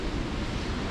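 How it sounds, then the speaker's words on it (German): A waterfall gives a dense, steady roar of rushing water, loud and continuous for a moment with no voices over it. "Hört ihr schon das Wasser? Das ist ein cooler Wasserfall."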